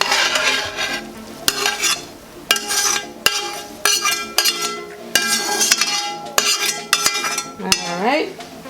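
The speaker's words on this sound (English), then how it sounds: "Now we're gonna add the vegetables" Vegetables stirred into fried rice in a pan, metal utensils knocking and scraping against the pan in quick irregular strikes over a continuous sizzle, loud and close, no voices.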